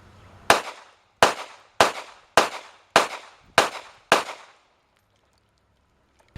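Glock 42 .380 Auto pistol firing at a shooting range, seven sharp loud shots at an even pace about two-thirds of a second apart, each with a short decaying tail, then quiet and one last snap.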